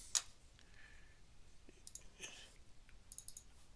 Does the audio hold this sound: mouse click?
yes